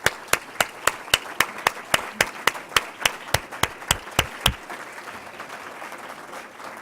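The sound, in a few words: audience applauding staff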